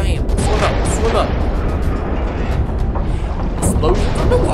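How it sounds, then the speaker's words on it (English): Muffled underwater explosions in the video game Far Cry 3, heavy low rumbling booms rolling continuously through the water with a few brighter bursts, loud and close. "Explosions underwater."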